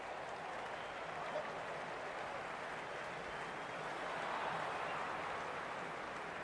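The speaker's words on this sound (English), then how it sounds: "The crowd is electric right now." Cricket match crowd in a steady, dense roar of cheering and applause, continuous and fairly loud throughout without clear breaks.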